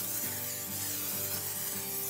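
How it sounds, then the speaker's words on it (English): Short bursts of butter-flavored non-stick cooking oil spray hiss lightly over a turkey breast being prepared for a pellet grill smoker, close and soft, with a low hum underneath and no speech. "we got just some non-stick cooking oil"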